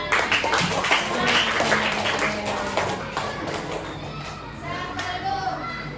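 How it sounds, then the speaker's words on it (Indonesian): A group of schoolchildren in a classroom clap their hands in a burst of fairly close, sharp claps that thin out over a few seconds, with voices talking over them. "Oke, tepuk tangan."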